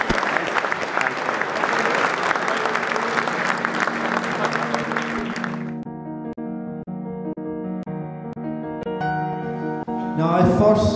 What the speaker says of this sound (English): Round of applause for Pat.